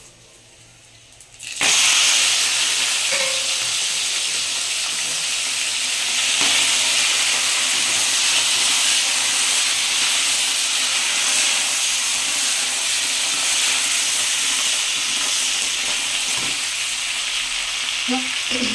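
Crab legs coated in salt and turmeric fry in hot oil, a bright continuous sizzle that jumps in abruptly after a quiet moment and keeps crackling steadily, with occasional stirring clinks.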